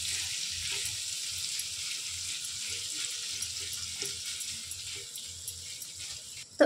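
Paneer fries in melted butter in a pan, a soft, steady hiss with faint intermittent stirring taps underneath, fairly quiet and close.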